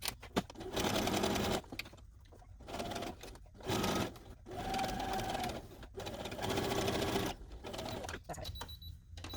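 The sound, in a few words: sewing machine sewing Boo costume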